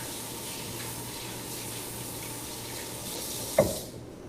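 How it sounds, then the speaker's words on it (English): A hand is rinsed under a running kitchen sink tap: a steady, even hiss of flowing water, with a brief splash near the end as the stream is disturbed, then the flow trails off. "Rinse my hand off here."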